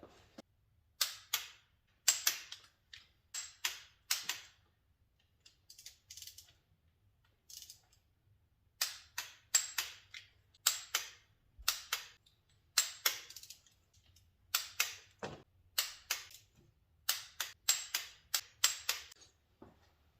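Repeated ratcheting clicks from a torque wrench tightening the PCV valve bolt on an Audi A4 2.0T engine, coming in quick bursts of clicks with short pauses, close and fairly quiet, with no talking.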